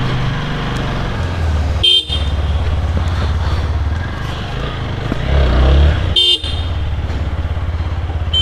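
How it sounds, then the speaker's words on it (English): Horn of a TVS Apache RTR 160 4V motorcycle while riding: two short, loud beeps several seconds apart over a steady engine and road rumble, no talk. "The horn is pretty nice, that I'm noticing at the very first"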